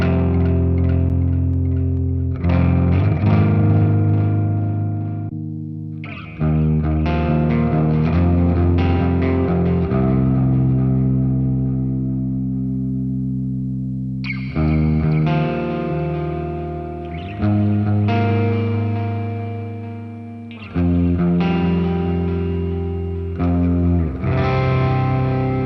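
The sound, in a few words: guitar with left-right delay and reverb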